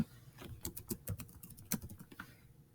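Someone types on a computer keyboard in a quiet room, an irregular run of light clicking keystrokes, some louder than others, heard nearby with no talking.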